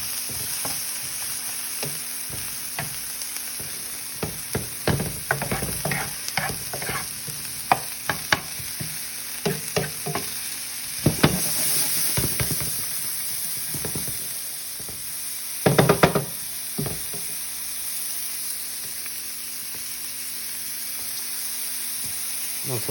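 Vegetables for a Brussels sprouts and lemon rice dish sizzle in a hot pan, softening, with a steady frying hiss throughout. Scattered clicks and scrapes of stirring rise and fall through the sizzle.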